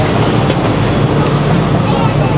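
A loud, steady rumble of an MRT train in motion, close by and continuous, with faint voices underneath.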